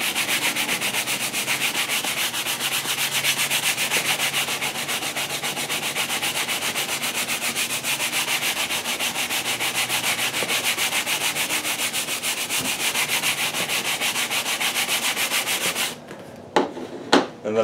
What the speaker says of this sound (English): I'm going to go in here with my brush and agitate.